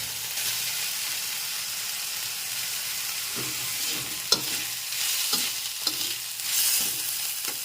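Grated carrot and beetroot with green chilli and ginger paste fry in a pan under repeated spatula stirring. Steady sizzle is broken by several scraping knocks, close and continuous, without speech.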